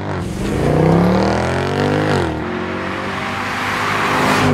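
A 2014 Mercedes-Benz C63 AMG Edition 507 wagon accelerates hard, its loud engine note climbing steadily through the gears with a brief dip at a shift before rising again, close and unbroken.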